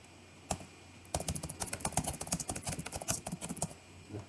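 Rapid clicking from a computer keyboard during AutoCAD work, heard close and fairly quiet. One isolated tap comes first, then a dense run of fast keystrokes with no talking.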